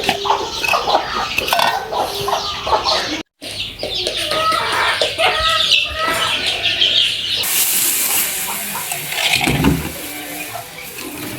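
A brooding Australorp hen sitting in a nest clucks repeatedly up close in short, uneven bursts, mixed with rustling and a stretch of hissy noise, and a faint voice is heard briefly.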